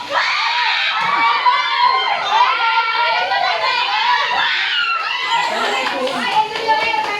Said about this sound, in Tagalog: huwag maingay, huwag kayong sumigaw mga bata kasi dito